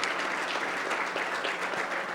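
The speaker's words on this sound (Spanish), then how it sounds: "Brindemos un fuerte aplauso para nuestros panelistas, por favor, y para nuestra moderadora." An audience at an energy security and sovereignty forum applauds the panelists and moderator, a steady, close, even wash of clapping throughout with no voices standing out.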